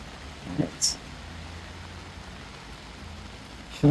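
Steady soft hiss of rain falling throughout, with a couple of brief knocks and a short burst near the end.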